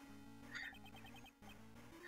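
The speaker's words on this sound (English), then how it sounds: "I called her on her cell phone." A cell phone ringing in Ace Attorney Investigations 2: a faint, tinny electronic ringtone of short repeating tonal pulses over a low steady hum, briefly cut off before resuming.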